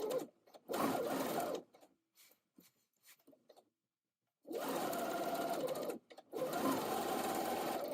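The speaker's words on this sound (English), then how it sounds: "With right sides together, stitch the front to the back at the shoulder seams, matching the notches. I'm using my straight stitch again" A home sewing machine runs a straight stitch along the shoulder seams of a garment in bursts: a long run, then a stretch of quiet handling noises, then two more sustained runs split by a short stop, close and clear.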